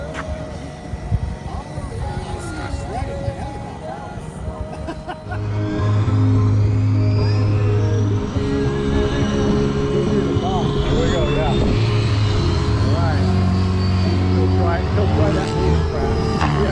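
Radio-controlled model helicopters fly at a fun fly event, their rotors and motors making a steady, whining drone that swells and shifts in pitch, with people talking nearby throughout.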